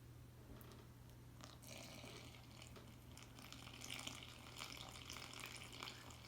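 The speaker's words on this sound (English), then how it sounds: "Then we're going to add 230 grams of water." Water poured into flour in a mixing bowl for pizza dough, a quiet steady splashing trickle at close range under a low electrical hum, no talking.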